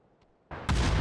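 Gunfire in the video game PUBG: a sharp, loud burst of shots cracks in suddenly after near silence and is heard up close with no talking.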